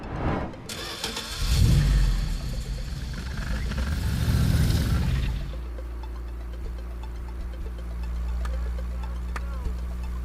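A car engine starts with a loud rising crank and rumble, revs for a few seconds, then settles into a steady low idle hum as the car pulls away, with light ticking on top.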